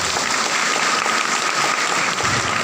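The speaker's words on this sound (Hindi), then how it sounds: "इसके लिए एक बार जोरदार ताली।" An audience gives a round of loud applause, with dense, steady clapping filling the whole stretch evenly and no voices.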